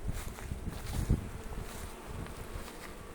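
A steady, dense buzz of many honey bees fanning at a hive entrance, close by and continuous, with a slightly louder swell near the middle; no talking.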